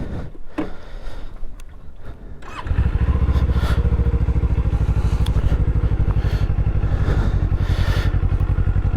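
A Kawasaki Eliminator motorcycle, a light, approachable bike with a 16-inch rear wheel, starts up after quiet handling sounds and settles into a steady, loud, close engine rumble with a fast even firing pulse as the ride begins.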